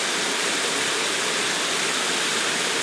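Lost Creek Falls waterfall roaring close by, a dense, constant rush of falling water that fills the scene without pause or voices.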